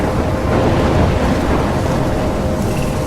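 Heavy, continuous rumbling roar of a thunderstorm with wind and rain in the video game Life is Strange, loud and dense throughout without a break.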